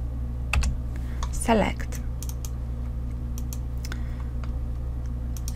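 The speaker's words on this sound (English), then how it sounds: "So let's type rUsedRange." Keystrokes on a computer keyboard as code is typed into the Excel VBA editor: a few scattered, faint clicks over steady background hum, with a short spoken word near the start.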